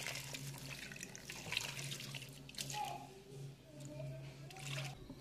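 Water runs steadily from a kitchen tap during preparation of fish in coconut milk, a soft continuous trickle and splash at low level, with a few faint clinks in the background.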